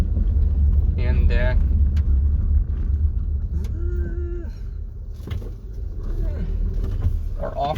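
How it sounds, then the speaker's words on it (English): A Hyundai Elantra driven off-road on a rural property trail: steady low engine and tire rumble inside the car, close and continuous, with people talking over it. "our off-road Elantra is working"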